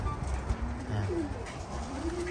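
Pigeons coo in a loft, several soft rising and falling calls overlapping close by against a low background rumble.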